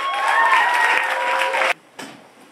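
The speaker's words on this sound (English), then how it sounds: "please give a big round of applause for Brit." An audience at a poetry slam in Eugene applauds loudly for the next poet, sustained clapping and a few cheers for under two seconds before it cuts off abruptly, followed by a brief murmur.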